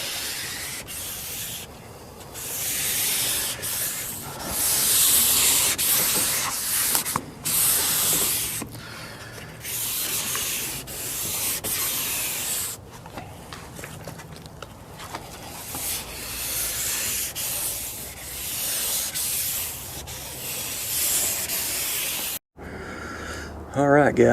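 A rotary buffer works stage 1 compound into the paint of a 1955 car, a continuous broad whooshing hiss rising and falling as the pad moves, loud and close, with a short break near the end.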